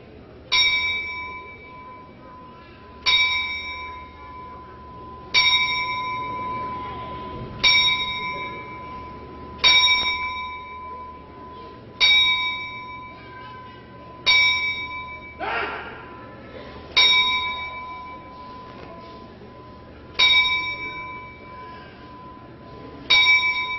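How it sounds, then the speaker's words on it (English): A timekeeper's bell at a wrestling event struck ten times in a memorial tribute, each ring clear and resonant, evenly spaced about two seconds apart and decaying in an otherwise hushed arena. "we'd like to have 10 bells from the timekeeper"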